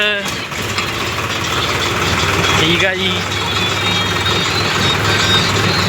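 A generator engine runs steadily at a fair at a shrine, a loud continuous mechanical drone with a low hum throughout, while someone speaks briefly over it.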